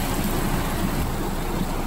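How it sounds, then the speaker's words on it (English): Hail falls on a street during a storm as a steady, dense, loud patter and hiss, continuous and close, with no voices. "on the street we have hail"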